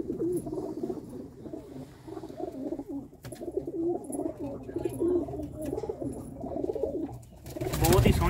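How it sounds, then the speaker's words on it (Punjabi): Many pigeons coo together in a loft full of nesting birds, a continuous low, burbling chorus close at hand, with a louder rustle of wings or movement at the very end. "ਬਹੁਤ ਹੀ ਸੋਹਣੇ ਸੋਹਣੇ ਵੀਰ ਹੋਣਾਂ ਦੇ ਕਬੂਤਰ ਨੇ"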